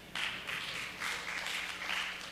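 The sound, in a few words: audience clapping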